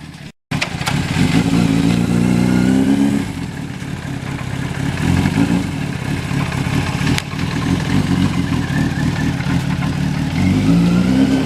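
A fuel-injected turbo motorcycle engine fires up after a brief gap and runs steadily and loudly close by, with revs rising and falling through the idle, and no talk over it.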